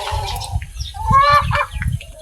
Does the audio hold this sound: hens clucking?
yes